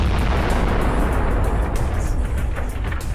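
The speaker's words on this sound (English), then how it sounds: "The explosion was so powerful that the tank's turret was blown off." A loud, sustained roaring blast as a tank's ammunition explodes, blowing off the turret, dense and continuous across the whole stretch, with crackling bursts near the end.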